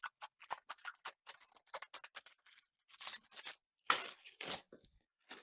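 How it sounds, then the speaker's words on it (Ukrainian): Plastic stretch film is peeled off packaged Roman day-night blinds in a string of close, crackly rustles and pulls, with a louder tearing burst near the end. "Обережно знімаємо стрейч-плівку."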